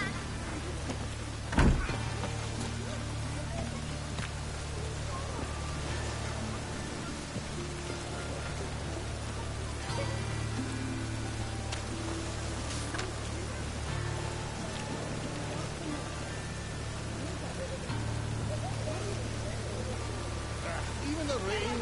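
Steady rain falling in the game The Witcher 3: Wild Hunt, a constant soft hiss running throughout at moderate level, with one brief thud early on and faint low game ambience underneath.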